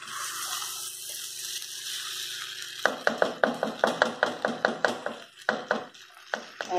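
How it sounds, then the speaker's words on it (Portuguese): Water is poured into a pot of frying Tuscan sausage and rice, beginning with a steady sizzle and then a run of sharp, rhythmic splashy bursts close by, with no talking. "A gente vai adicionar a água"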